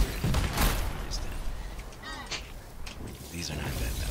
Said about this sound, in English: Why is everything shooting at me?